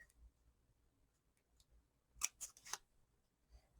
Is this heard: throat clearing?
no